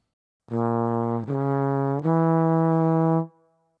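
Three sustained diminished chords played on brass in a row, each held about a second, loud and clean, with a brief fade at the end.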